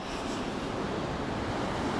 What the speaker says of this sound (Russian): А вот и волна идет, и она может нас, кстати, накрыть.